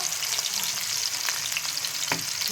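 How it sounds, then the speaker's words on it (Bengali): Fish frying in a hot pan on the stove, giving a steady, close sizzle with crackling spatter and a brief scrape of a utensil, no voices. "ভাজতে শুরু করেছি আমি।"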